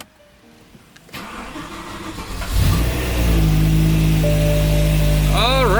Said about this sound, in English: So BMWs usually don't like cold starts